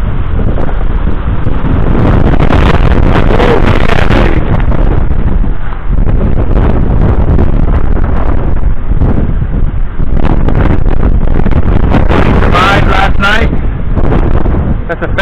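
Strong gusty wind after a storm buffets the microphone with heavy roaring rumbles that rise and fall, loud and continuous, while a person speaks faintly underneath.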